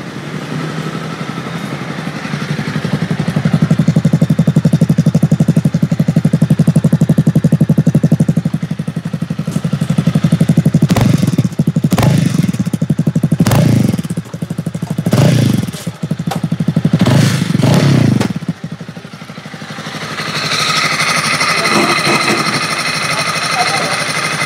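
A Honda CB 300R motorcycle, imported from Thailand, runs close by after starting, a loud steady engine drone broken by several sharp revving bursts, then settling to a quieter idle.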